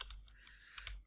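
Quick, light keystrokes on a computer keyboard while entering text into a notepad app, a short irregular run of close clicks with no talking.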